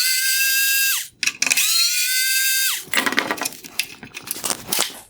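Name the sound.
removing T20 screws from Mercedes headlight projector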